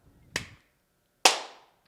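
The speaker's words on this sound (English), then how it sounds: "This is a clap, so that way it syncs everything up" Two sharp, close hand claps about a second apart in a quiet room, the second louder and brighter, each ending quickly.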